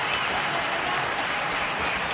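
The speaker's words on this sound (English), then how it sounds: "Yes, he deserves the applause." A cricket crowd at Sharjah applauds a batsman reaching fifty during a 1997 India versus Pakistan match, a dense, even wash of distant clapping across the stadium, with no talk over it.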